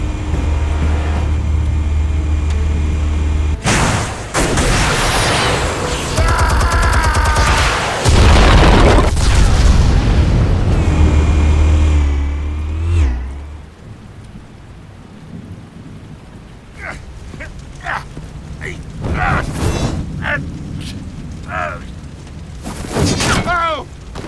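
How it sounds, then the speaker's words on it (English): Explosives detonate in a Batman video game, heavy rumbling booms and a long roaring blast that fade into quieter crackling debris and scattered impacts, with brief game voices. "Explosives armed. Fire when ready."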